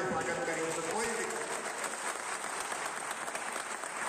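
Crowd at a political rally applauding, a dense steady wash of clapping throughout, loud and sustained with some voices mixed in.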